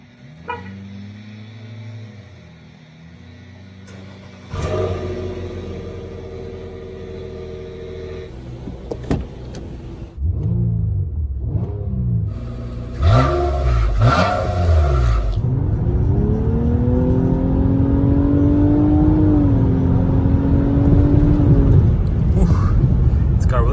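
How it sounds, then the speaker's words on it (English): A car engine cranks and catches, idling roughly before revving, then the drone of the car driving off with rising engine pitch and some talking. "let's do a cold start and a little drive"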